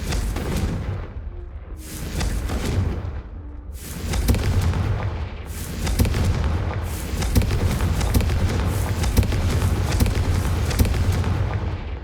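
Confringo explosive spell blasts in Hogwarts Legacy go off as a run of loud booming bursts, each with a crackling tail, repeating every second or two over constant rumbling game noise.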